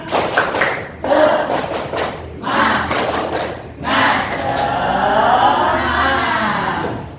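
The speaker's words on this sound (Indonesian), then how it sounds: "Tepuk semangat." A standing class performs a spirit clap, with rhythmic bursts of clapping and shouted chant, pausing briefly between rounds before a sustained final stretch of crowd noise.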